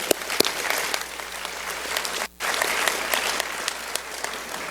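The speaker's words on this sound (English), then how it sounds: "I want to give her an applause." Dense audience applause fills a political party convention hall, a continuous close clapping roar with a brief cut partway through.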